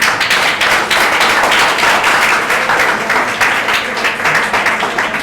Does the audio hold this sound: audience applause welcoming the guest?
yes